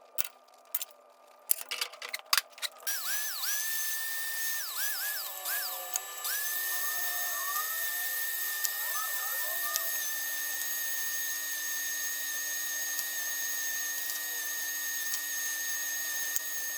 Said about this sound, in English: I'm going to use a flapper wheel on a die grinder